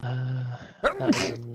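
A single sharp sneeze from a man, loud and close, interrupting a low steady hum, with brief speech just after.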